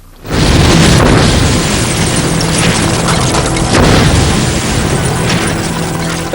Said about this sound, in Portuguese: A explosão estilhaça a mesa pesada